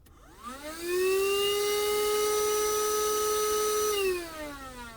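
A Woscher 578 2-in-1 handheld car vacuum cleaner spins up with a rising whine, holds a steady loud tone for about three seconds, then its pitch falls as the motor winds down.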